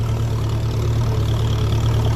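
A 1957 Ferguson 35 tractor running on TVO idles with a steady low, droning engine note and a lazy governor, close and constant throughout with no talking.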